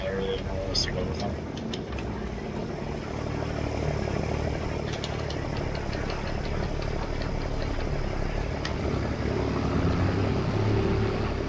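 A farm tractor idles steadily in Farming Simulator 22, set around a barn near Westby, Wisconsin, a constant low engine drone running throughout, with occasional faint clicks and tones on top.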